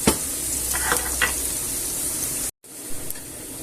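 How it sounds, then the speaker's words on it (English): Onions and peppers frying in a pan for a Spanish sausage dish, a close, bright sizzle with a few stirring scrapes, cut off briefly before the frying continues more quietly. "gently brown the onions off and soften the peppers up"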